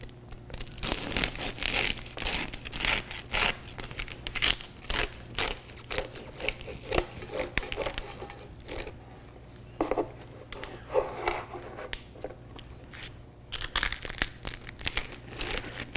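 A serrated knife saws through hard, crispy roast pork crackling, giving dense crunching and crackling bursts in close, uneven strokes with brief pauses between cuts.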